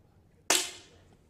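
A single sharp 10 m air rifle shot at a para shooting prone competition, a crisp close crack with a short decaying tail in a quiet hall.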